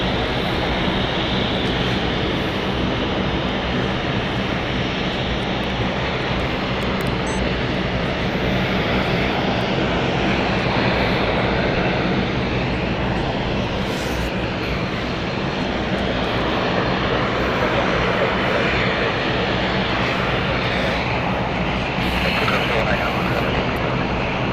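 A Luxair airliner at London City Airport, in the Stand, Speak, Rise Up livery, produces a loud, steady engine roar that holds for the whole stretch with no break.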